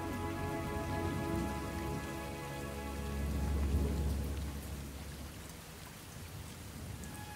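Steady monsoon rain pours down in a dense, continuous hiss in northern Australia, with a low rumble swelling midway and easing off toward the end.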